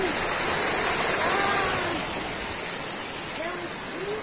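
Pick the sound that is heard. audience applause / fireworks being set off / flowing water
flowing water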